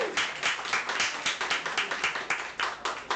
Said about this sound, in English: We can clap for Chris